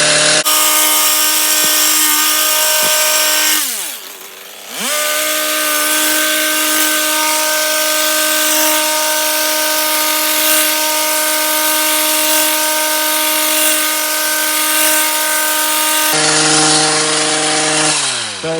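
Power hedge trimmer cutting shrubs, its motor whining loud and close, briefly dropping and revving back up near four seconds, then holding a steady high buzz before a shift in pitch near the end.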